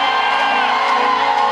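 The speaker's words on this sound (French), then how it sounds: "Est-ce que des cris de joie peuvent monter de cette maison maintenant?" A church congregation shouts and whoops with joy in a loud, sustained crowd roar that fills the room without pause.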